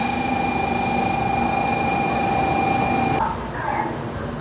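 Inside a Japanese bullet train running at speed from Hiroshima toward Tokyo, a loud, steady rumbling roar with a sustained whine fills the cabin, then the tone abruptly drops and softens near the end.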